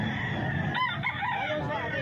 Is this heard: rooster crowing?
yes